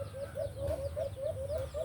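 A trained decoy bird calls in a quick, regular series of short repeated chirping notes, fairly close and clear over a low background hum.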